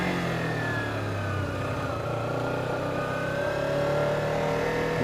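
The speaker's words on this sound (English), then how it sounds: "lots of engine revving" A Kawasaki Ninja 300 motorcycle engine revs steadily at a traffic light in town, a close, continuous mid-pitched drone rising and falling slightly with throttle, heard alone without talk.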